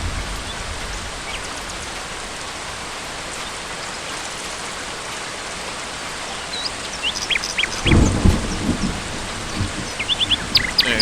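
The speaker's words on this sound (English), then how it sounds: "There, enjoy the rain sounds." Steady rain falls throughout, with a deep rumble of thunder rolling in near the end over the constant hiss, joined by sporadic higher chirps.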